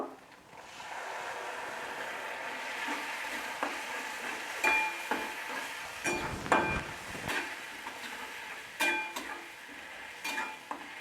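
Tomato paste sautéing in a pan for cauliflower curry, with a steady soft sizzle and scattered scrapes and clinks of a spoon stirring against the pan, no voices.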